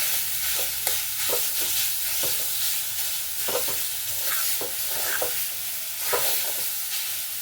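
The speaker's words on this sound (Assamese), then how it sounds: "সেইখিনি ভিতৰত লাহে লাহে ভাজি থাকিম" Grated carrot and beetroot cook slowly in ghee for carrot payesh, giving a soft continuous sizzle with regular scraping stirs throughout, close by and without talk.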